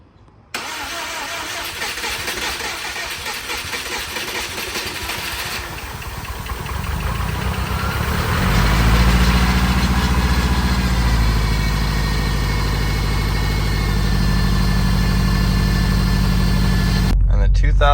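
A rebuilt 2013 Subaru STI engine fires up for the first time, cranking briefly before catching and settling into a steady, deep idle that runs loud and close for the rest of the clip.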